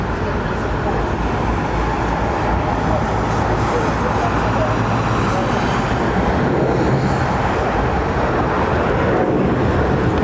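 WestJet airliner at London Heathrow Airport, a loud steady broadband roar of jet engines that holds through the whole stretch with road traffic blended underneath.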